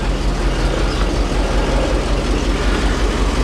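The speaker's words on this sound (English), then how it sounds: "So we'll start the engine" A 1981 Rolls Royce Silver Spirit engine idles with a steady, smooth low rumble, close and continuous, with no voices.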